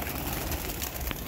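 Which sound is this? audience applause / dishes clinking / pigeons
pigeons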